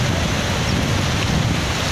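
Steady, loud rush of falling water, a continuous broadband roar with no pauses, close by.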